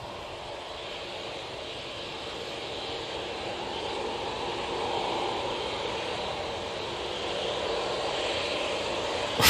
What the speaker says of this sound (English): Should get that Embraer just touching down